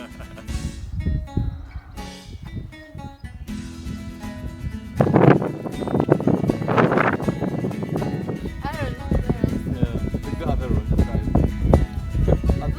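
Gusty wind buffets the microphone in low rumbling bursts while people talk and call out nearby, outdoors in Stellenbosch, South Africa.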